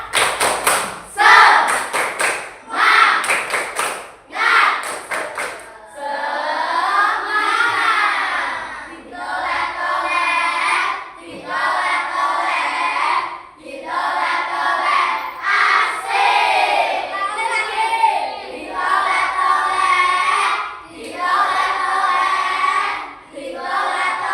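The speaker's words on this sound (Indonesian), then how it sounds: "Supaya lebih semangat, Ibu ingin tepuk semangat." Classroom of students in a coding and AI training lesson doing a rhythmic clapping chant, sharp repeated claps in a steady pattern alongside chanted group voices, loud and close, running through most of the clip.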